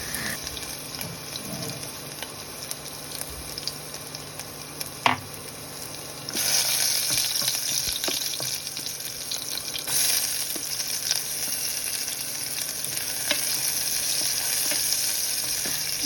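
Tempering for mung dal frying in a home kitchen, a quiet early stretch with a clink before a steady sizzle bursts in and continues, with occasional stirring scrapes.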